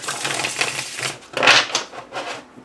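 A small tarot deck being shuffled gives a run of rapid, riffling card clicks with one louder flurry partway through, close and alone without talk.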